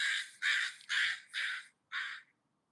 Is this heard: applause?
no